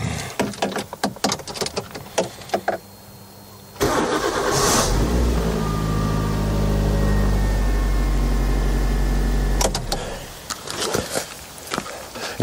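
A car engine cranks and catches, then runs steadily at idle for several seconds before cutting off, with clicks and handling noise before and after.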